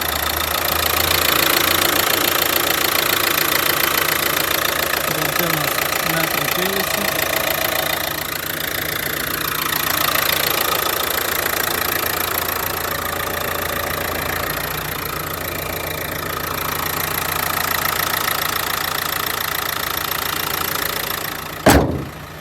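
A Renault Megane 3 engine idles steadily with the hood open, giving a close, continuous mechanical hum and faint rattle that holds even for about twenty seconds before a brief knock near the end.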